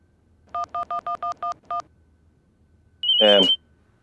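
A phone is dialed, with seven evenly spaced keypad tones, a short pause, then one longer electronic beep tone, all clear and close in a quiet room.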